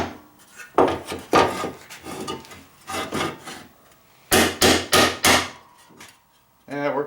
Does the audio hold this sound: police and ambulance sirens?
no